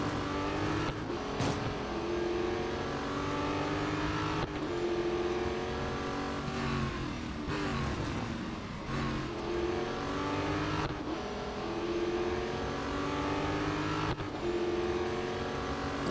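A race car engine in a racing video game holds a steady, droning note on a final lap, with brief shifts in pitch through corners and a high-speed chicane, continuous and moderately loud with no talk.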